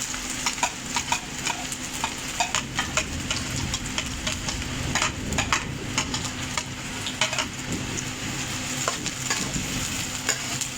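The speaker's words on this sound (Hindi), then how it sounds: "प्याज को 4 से 5 मिनट के अंदर भूनेंगे।" Finely chopped onions fry in hot oil, a steady close sizzle broken by frequent scraping clicks of a spoon stirring the pan, with no voices.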